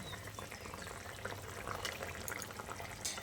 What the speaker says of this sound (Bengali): এবার আমি ভেজে রাখা মাছগুলোকে এই টকের মধ্যে দিয়ে দিচ্ছি